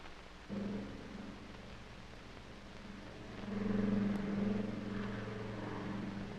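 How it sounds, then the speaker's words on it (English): A steady airplane engine drone hums at a distance, swelling louder midway and then holding on as a low, continuous rumble. "That's an airplane."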